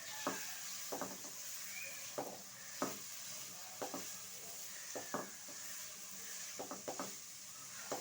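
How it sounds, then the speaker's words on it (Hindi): Cut carrots sautéing in oil in a pan, a steady soft sizzle with repeated scraping stir strokes of a spatula arriving every second or so, close and quiet, with no talking. "तो हम ज़रा 2-3 मिनट के लिए सौटे कर लेंगे।"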